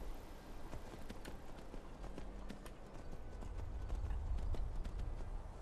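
Horse hooves clip-clopping in the Skyrim video game, a steady rhythmic trot of close, crisp hoof strikes over a low rumbling ambience that grows slightly louder toward the end.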